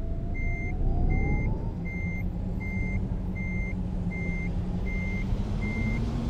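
Evenly spaced electronic reversing beeps, eight in a row, repeat over the steady low drone of a bus engine backing up in the Euro Truck Simulator 2 game, with no talk.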